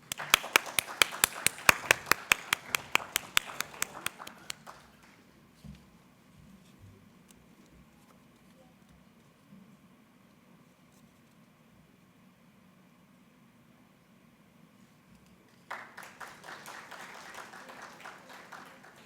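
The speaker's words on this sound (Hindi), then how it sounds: "जोरदार तालियां" Scattered, sharp claps from a small audience at a Hindi poetry gathering (kavi sammelan) in Pune, a burst of evenly spaced claps that fades into near silence, then a fresh round of clapping near the end.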